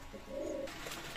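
Pakistani breed pigeons give a soft, low coo, a single brief call heard faintly and close, over a quiet background.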